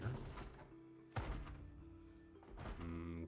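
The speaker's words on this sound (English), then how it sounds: "I hear zombies banging" Zombies in the Project Zomboid video game bang on a door, a series of heavy dull thuds, roughly three separate blows spaced about a second apart, muffled and moderately faint.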